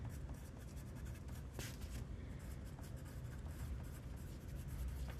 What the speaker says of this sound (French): Donc, je vais écrire mon nom